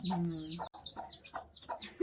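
Village hens with chicks cluck in short, repeated bursts, one drawn-out call opening, then choppy clucks and faint peeps nearby.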